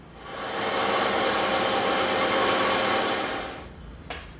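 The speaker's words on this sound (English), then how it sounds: "go over to the bandsaw and we're going to tip the table on an angle and we're going to cut these edges off" A bandsaw with its table tilted at an angle cuts the edges off EVA foam, a loud steady buzzing whine that holds for about three seconds before winding down, ending with a faint click.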